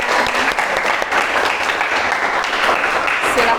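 Classmates clap in a classroom, a dense, steady round of applause that holds at an even loudness throughout with no voices over it.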